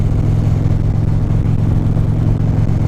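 A car drives along a harbor road past houses and water, giving a steady, loud, low engine drone and road rumble from inside the cabin, constant throughout with no speech.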